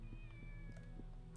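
Cat meowing in the Shenmue video game on Dreamcast, a steady mewing cry held over a busy game background with repeated soft taps, fairly close and clear.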